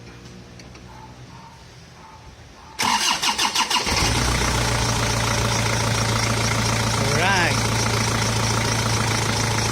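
Isuzu 4JG2 diesel engine in a boom truck at a garage cranks with a rapid chugging starter burst, catches, and settles into a loud, steady idle; someone says a word shortly before the start.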